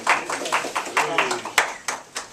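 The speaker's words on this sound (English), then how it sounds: "I feel like you should clap for almost 1 Yeah, milestone." A small group claps to mark a work milestone in an office or meeting room, a scattered run of uneven, close handclaps with voices talking and laughing over them.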